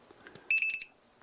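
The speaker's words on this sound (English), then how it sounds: "They're the Predator Lipo battery checker, but it's also an alarm." FMS Predator LiPo battery checker sounding its alarm: a short burst of shrill, rapid electronic beeps, loud and close, starting after a near-silent moment and stopping abruptly.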